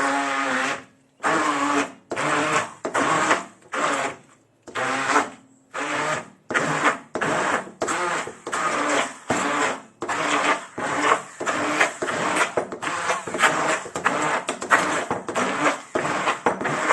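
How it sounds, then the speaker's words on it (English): Hand stick blender whizzing a vegan gluten-free ackee and tofu quiche filling, running in loud repeated pulses of a second or so with brief gaps, then settling into steadier choppy whirring. "So plug myself in with my handy hand blender, stick blender."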